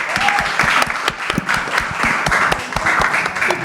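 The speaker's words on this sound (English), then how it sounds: "So let's give our panel a big round of applause" A seated audience applauds a student panel at a Saturday morning discussion, steady dense clapping filling the room at close range with a few louder individual claps standing out.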